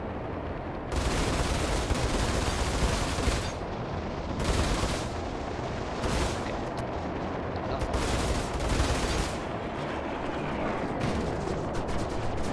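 Machine guns firing from a Hornet spaceship in the Star Citizen game, loud rapid bursts of several seconds each, separated by short pauses and repeating throughout.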